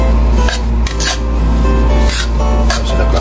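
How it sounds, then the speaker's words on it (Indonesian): Grated coconut dry-roasts in a pan while a utensil stirs and scrapes it, giving repeated raspy scraping strokes over a steady low hum from the stove, loud and close. "Ini kelapanya disangrai, kelapa parut."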